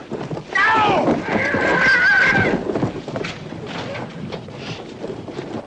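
A horse neighs loudly in a long whinny amid a commotion on a film set, with hoofbeats and people shouting around it, then the noise settles into a rumbling, busy background.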